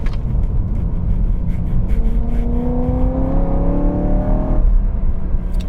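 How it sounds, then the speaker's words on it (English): A naturally aspirated 4-liter V8 in a BMW M3 rises in pitch, then drops sharply as the car downshifts, heard close and loud from inside the car. "Just listen to the downshifts."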